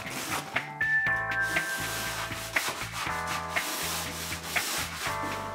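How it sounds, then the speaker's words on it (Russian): Sandpaper rubs over a floor surface being prepared for paint, giving soft rhythmic scraping strokes that run steadily under a melodic background music bed, with no voices. "Затем обработайте поверхность наждачной бумагой, чтобы улучшить адгезию краски."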